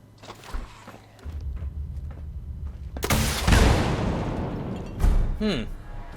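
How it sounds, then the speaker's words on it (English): A missile launcher fires in Fallout 76 on Xbox One, with a heavy booming blast and rumbling aftermath partway through, followed by another loud impact amid game noise and scattered footsteps. "Game, I'd like my missile launcher."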